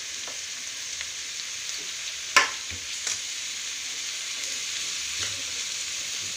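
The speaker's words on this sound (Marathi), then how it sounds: "सगळ्या भाज्या आपण व्यवस्थित तेलामध्ये परतून घेणार आहोत." Mixed vegetables sautéing in oil in a pan over medium heat, giving a steady close sizzle broken by a sharp scrape and clatter of stirring, then further light stirring knocks, with no voices.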